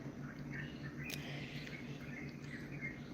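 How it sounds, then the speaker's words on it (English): Early-morning birds outdoors before sunrise, faint scattered chirps and tweets over a low steady hum, distant and quiet throughout. "Yeah, the birds are tweeting."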